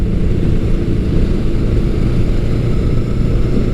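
A Honda CB900 Custom motorcycle engine runs steadily in fifth gear with its 10-speed transmission, a continuous loud droning hum with even rumble and no break throughout.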